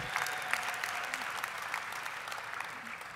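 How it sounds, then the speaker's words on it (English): Steady applause from an audience at a district attorney's inauguration, honoring St. John's University, dense and even throughout with a few sharper claps and faint voices in the mix. "So a round of applause to St. John's University, everybody."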